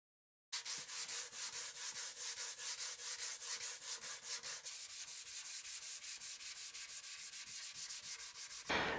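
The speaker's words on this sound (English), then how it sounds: "start sanding it with a block of wood and some 220 grit sandpaper" A guitar body is sanded with a block of wood and 220 grit sandpaper in quick, even back-and-forth strokes, a close rhythmic scratchy rasp repeating steadily for several seconds with no talking.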